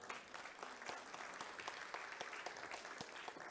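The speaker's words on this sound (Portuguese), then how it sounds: "Cristina Batistelli, engenheira na Sabesp, a quem também peço uma salva de palmas." Audience applause at a seminar on new technologies for the Pinheiros River in São Paulo, a faint but continuous patter of many hands clapping throughout with scattered sharper claps.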